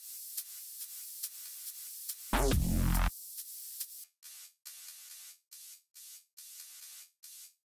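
Crisp electronic hi-hat hits tick in a steady rhythm, briefly interrupted by a loud burst of noisy sweep, then return as short, choppy, clipped hats.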